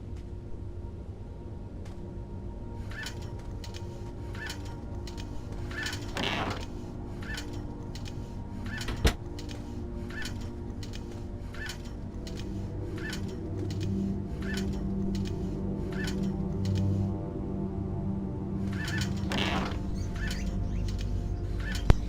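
Soft chirps and cooing from caged birds in Agatha's room in the game Indigo Prophecy, repeating steadily over a quiet ambient music bed, with a sharp knock near the middle.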